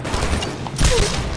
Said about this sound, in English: Auto fire pistol, baby.